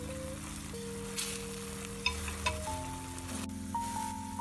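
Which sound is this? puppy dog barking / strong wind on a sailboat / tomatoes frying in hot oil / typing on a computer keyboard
tomatoes frying in hot oil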